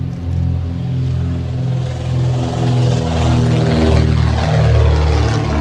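The de Havilland Comet Grosvenor House flying past at an evening air display, a loud steady propeller-engine drone that swells and holds for several seconds.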